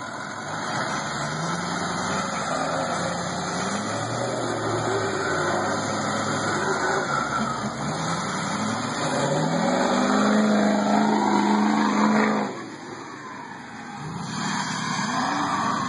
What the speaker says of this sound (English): That's what it takes, four-wheel drive, and a big fucking diesel.